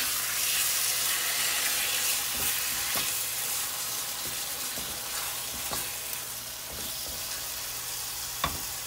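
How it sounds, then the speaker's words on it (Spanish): Chicken breast sizzles in a pan over high heat with a dense, steady hiss, broken by occasional soft pops and a few utensil taps. "Y vamos a dejar unos minutos hasta que el pollo se cocine a fuego alto"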